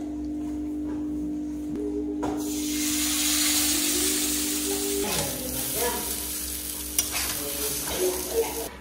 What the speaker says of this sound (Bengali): এই যে চাউমিন ভাজবো বলে রেডি হয়ে পড়েছি